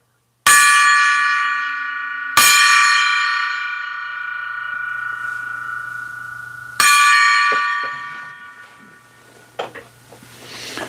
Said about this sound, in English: 3 rings of the gong